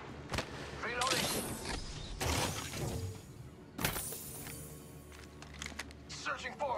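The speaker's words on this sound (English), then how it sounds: "Reloading." Weapon reloading in Apex Legends Mobile: sharp metallic clicks and mechanical clacks of a gun being reloaded, mixed with brief gunfire bursts, while a voice speaks intermittently.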